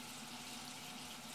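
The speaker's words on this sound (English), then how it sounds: "I'm sorry for the water running in the background" Water runs from a tap in the background, a faint, steady hiss with no other sounds.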